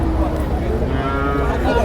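A Jersey bull at a market gives a loud, sustained low moo filling the whole moment, close by, with faint voices in the background.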